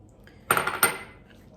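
Metal utensil striking a pan twice while stirring chicken, garlic and red chili peppers together, two sharp close clanks about a third of a second apart, then quiet.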